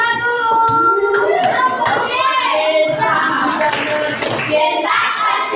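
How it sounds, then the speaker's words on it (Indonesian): A class of Indonesian junior high students performs a rhythmic clapping cheer, quick clustered claps beneath loud children's chanting and voices throughout, near and energetic. "Beri tepuk cinta dulu."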